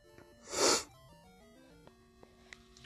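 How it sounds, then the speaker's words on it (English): A single loud, breathy human sneeze bursts out near the mic, followed by quiet video game music playing in the background. "I had to sneeze."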